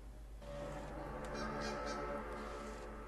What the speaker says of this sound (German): Das klingt wie eine Gans.